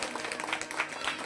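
Quiet, brief applause rises from an audience at a devotional gathering of the Sant Dnyaneshwar Seva Sansthan, heard as a soft, steady patter of many hands.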